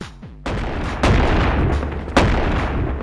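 Shotgun blasts in the video game Animal Company, two loud sharp booms a second apart, each followed by a rumbling, noisy tail.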